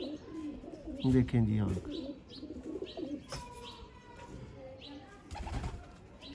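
Sialkoti breeder pigeons coo in soft repeated bursts, with a louder run of coos early on, light chirps and faint wing flutter, while someone talks over them.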